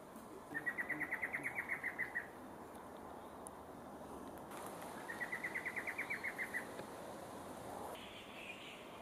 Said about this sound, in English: More good birds could be found skulking in the thick understory, like this male large-billed ant wren.